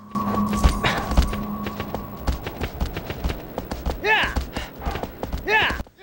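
A horse gallops with rapid, clear clip-clop hoofbeats in the PS2 game Shadow of the Colossus. A brief electronic tone and faint whinny-like sweeps rise near the end.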